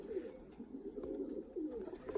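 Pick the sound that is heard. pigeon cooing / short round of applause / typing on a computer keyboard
pigeon cooing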